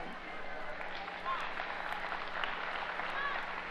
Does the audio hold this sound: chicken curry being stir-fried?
no